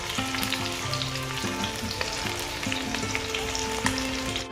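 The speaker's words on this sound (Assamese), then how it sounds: "মাংস ভাজি আছে" Chicken meat fries in a pan with onion, ginger and raw green chilli, giving a steady close sizzle with occasional crackles and stirring scrapes, continuous and without any talk.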